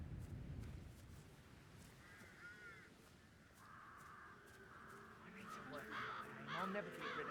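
Crows caw in the Hitman 3 video game, several harsh calls at moderate distance, mixed with game ambience and faint talk.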